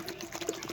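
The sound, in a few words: water being poured into pot of potatoes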